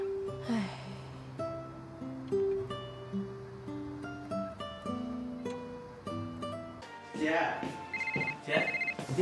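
A telephone rings indoors in a domestic drama scene, its repeated electronic tones sounding in steady bursts with other sounds in the background.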